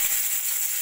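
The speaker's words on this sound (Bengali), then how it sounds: "কড়াইতে তেল গরম করে নিয়েছি" Chopped garlic sizzling in hot oil in a wok while cooking momo soup, a close, loud, steady frying hiss with no voices.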